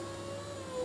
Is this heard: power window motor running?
yes